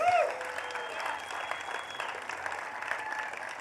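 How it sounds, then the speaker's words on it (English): Rally crowd at an evening Back the Blue event applauding steadily, a dense wash of clapping and cheering that holds at an even level throughout, with a brief voice or whistle at the very start. "So give yourselves a big round of applause"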